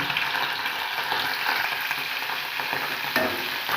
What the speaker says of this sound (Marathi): मी पनीर काय करते त्याला फ्राय करते